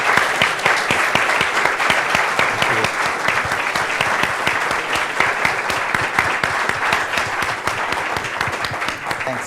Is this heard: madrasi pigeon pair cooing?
no